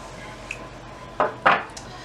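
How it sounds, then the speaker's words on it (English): A utensil knocks against a small bowl while coffee is stirred into chocolate mayonnaise cake batter, giving two clear clinks close together near the end after a faint tap, with a quiet background. "Just stir that right in."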